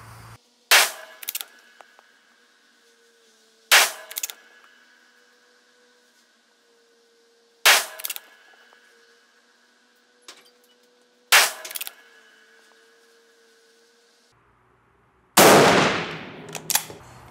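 Lee Enfield No.5 Mk I Jungle Carbine, a short British bolt-action rifle, fired at a target: five loud, sharp shots spaced several seconds apart with quiet gaps, then a final burst of rough noise.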